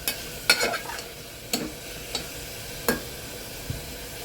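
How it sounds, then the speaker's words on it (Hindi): Keema with potato and spices being stir-fried on medium flame, with a soft background sizzle and a few sharp spoon scrapes and clinks against the pan. "मीडियम फ्लेम पे हम इसको चलाते हुए थोड़ी देर मसाले भून लेंगे गोश्त के साथ,"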